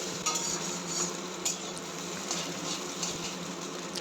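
Eggs frying in a pan, a quiet steady sizzle with a few light metallic taps and scrapes of a utensil, close but fairly soft, no voices.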